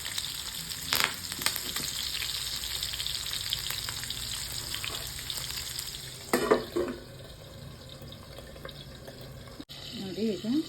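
Anjal fish fries with curry leaves in a pan, giving a steady sizzle with a burst of crackling partway through. A voice talks over it and a brief tap-water sound follows near the end.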